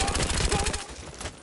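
Gunfire in the video game Battlefield Hardline: loud, rapid bursts of close automatic shots in a steady rhythm, thinning out and fading into echoing quiet over the last half second.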